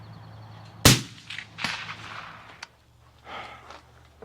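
A single sharp crack from a Uintah Precision UPR-15 .223 rifle fired at a long-range target outdoors. It rings out once, loud and abrupt, then fades into quiet ambient noise and faint breathy sounds.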